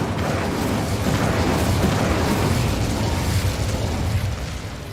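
Incendio fire spell in Hogwarts Legacy: a loud, roaring rush of flame and rumbling blast sustained for several seconds, thick and low-heavy, fading slightly at the end.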